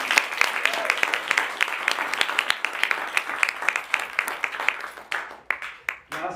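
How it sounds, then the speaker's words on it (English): A small crowd claps steadily for several seconds, the individual claps fairly close and distinct before thinning out and stopping. "let's give him one more big round of applause,"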